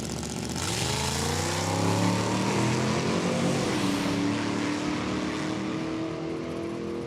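A Corvette makes a drag strip test-round pass, its engine roaring loud and close with a steady rising pitch as it accelerates away, with no voices over it.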